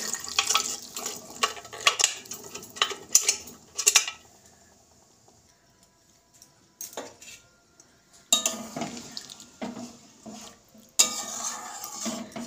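Boiled chickpeas poured into a spiced masala in a pan and stirred: a few seconds of spoon-and-metal clattering, a quiet pause, then a longer stretch of scraping, wet stirring and knocking against the pan.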